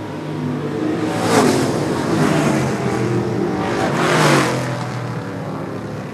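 Race cars on a super short track roar continuously at close range, engine noise swelling as cars pass around 1.5 and 4.3 seconds, with a steady loud drone throughout and no talk.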